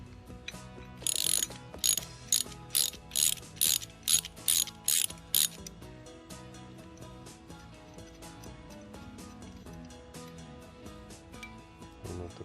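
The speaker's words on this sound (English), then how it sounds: "we take the 14mm socket wrench, and then we use it to take off the pegs" A 14mm socket wrench ratchets quickly while loosening motorcycle foot pegs, a crisp series of about ten sharp clicking bursts in steady rhythm, then quieter mechanical handling noise afterward.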